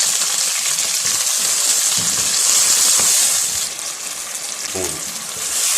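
A steady sizzle of tomato puree frying in a hot pan for chicken pulao, with bubbling and a faint stirring scrape, no talk over it.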